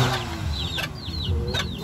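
Chickens cluck close by, with quick high chirping calls that sweep downward repeating every half second or so over a steady background.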